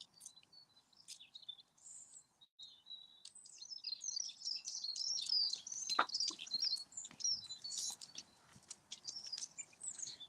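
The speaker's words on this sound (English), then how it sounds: "There's a robin set up there singing up there" A robin sings from a perch outdoors, a run of high, bright, fluttering phrases over quiet background, with other small chirps mixed in and a soft thump partway through.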